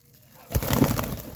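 Soft pigeon coos and a brief flutter of wings begin after a moment of quiet, close by.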